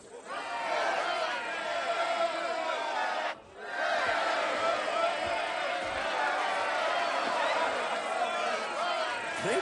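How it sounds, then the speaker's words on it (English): A large crowd cheers and roars in the Assassin's Creed Odyssey video game, a loud, dense wall of voices after a theatre performance that drops out briefly, then surges back and holds steady. "Enjoy the crowd's reaction"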